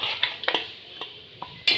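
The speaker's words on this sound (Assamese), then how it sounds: "মাংসখিনি গোটেইখিনি ইয়াতে দি দিম দি ধুনীয়াকৈ লৰাই দিম" Chicken meat stirred in a frying pan for a local chicken curry, a spoon scraping and clinking against the pan in a few sharp, irregular strokes over a soft background sizzle, close by and without any talk.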